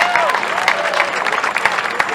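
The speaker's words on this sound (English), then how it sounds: "So a round of applause if you would, please." An audience applauding at the Music City Walk of Fame star ceremony in Nashville, a short burst of steady clapping with a voice speaking over it.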